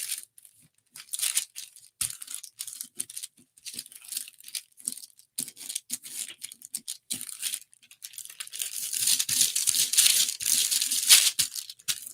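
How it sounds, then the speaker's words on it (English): Dry glue being rolled off parchment paper with the fingers, a long run of soft crinkling, peeling and tearing noises in irregular bursts, close up and fairly quiet, growing busier toward the end. "So this is just dry glue that is rolling right off."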